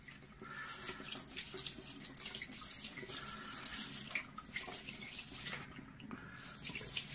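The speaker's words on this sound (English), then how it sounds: "I will turn the mirror a little bit just to make sure that all corners of it is receiving the water." Tap water runs steadily over a SkyWatcher 300P 12-inch Flextube Dobsonian telescope mirror being rinsed, a continuous, fairly quiet splashing rush with slight shifts in tone as the flow strikes the glass.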